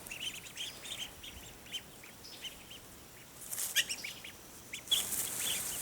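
Ducks in a homemade outdoor habitat built from scavenged panels give scattered, faint quacks and clucking calls against quiet background noise, with the calls growing busier and a bit louder toward the end.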